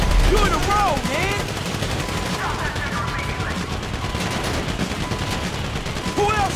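Rapid gunfire bursts in the video game GTA V during a shootout, repeated volleys and automatic fire sustained throughout, with shouting voices mixed in.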